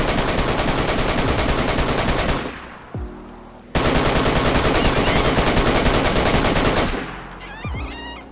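Loud sustained automatic fire from an AKM assault rifle in the game DayZ, two long unbroken bursts of rapid shots, each ending abruptly, with brief quieter gaps holding faint clinks and movement.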